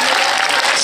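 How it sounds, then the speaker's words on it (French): A premiere audience in a theatre bursts into loud, dense applause for the film's director, a brief wall of many clapping hands close and full. "On applaudit bien fort"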